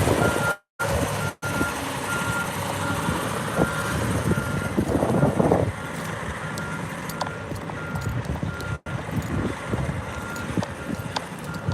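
Truck reversing beeps repeating outdoors in a city street, faint tones over loud traffic and wind noise with a few brief dropouts.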